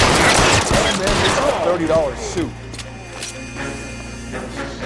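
Gunfire in the crime video game L.A. Noire, a rapid burst of close shots over the first couple of seconds that then trails off into a quieter low hum.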